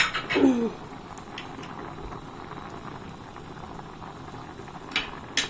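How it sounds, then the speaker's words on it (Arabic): Lentil soup with salt, cumin and coriander bubbles at a gentle boil in a pot, a soft steady simmer with occasional louder pops and clinks, close by and fairly quiet. "بص بدأت تغلي ازاي"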